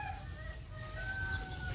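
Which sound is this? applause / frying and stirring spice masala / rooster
rooster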